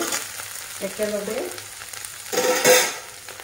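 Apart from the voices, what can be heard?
spices frying in oil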